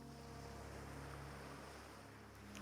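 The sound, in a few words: ocean waves on the shore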